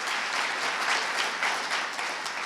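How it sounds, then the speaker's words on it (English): Audience applause at Wayne State University's 25th anniversary Martin Luther King Jr. tribute, honoring a school choir and cheerleaders; a steady, dense wash of clapping from a large crowd fills the whole stretch at even loudness. "Can we have another round of applause for the Detroit Academy of Arts and Sciences Choir"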